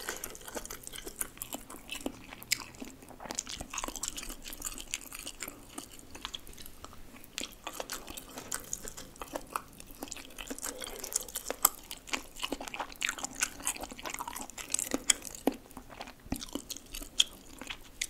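Close, continuous wet chewing and biting of spicy Korean rice cakes, tteokbokki, with soft sticky smacks and small crunchy bits in a steady irregular rhythm, no talking.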